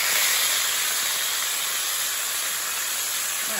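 Meat for chili con carne browning in a pot, a steady broadband hiss and sizzle that holds evenly and fairly loud throughout with no talk.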